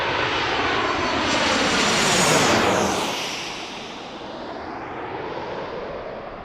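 An American Airlines jet at Washington DCA airport, a loud roaring engine rush that swells and passes overhead, then fades slightly as it moves away, with no talk.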